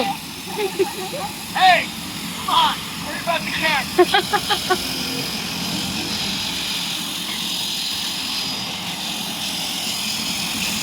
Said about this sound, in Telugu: ఇంత చిన్న ఫ్లైట్ ఎక్కటం నేనైతే ఫస్ట్ టైం.